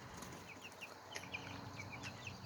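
Small meat chickens in a crowded brooder give repeated soft high chirps and peeps, a steady chorus of overlapping calls close by with no talking.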